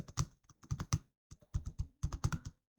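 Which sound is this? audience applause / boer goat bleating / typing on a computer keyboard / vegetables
typing on a computer keyboard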